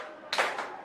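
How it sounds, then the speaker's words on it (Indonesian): One sharp hand clap in a classroom setting, a single crisp burst that decays quickly against a quiet background. "Nah, itu tepuk satu kali ya."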